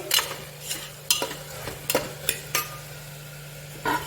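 Tomato sautéing in a pan for vegetable biryani, with several distinct scraping stir strokes over a steady low hum and faint sizzle, close and fairly quiet.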